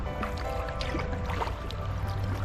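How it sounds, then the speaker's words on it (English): Rushing, splashing water of rapids on the Grand River heard from a kayak, a steady broadband churn with a low rumble running the whole time, close and fairly loud. "Rapids."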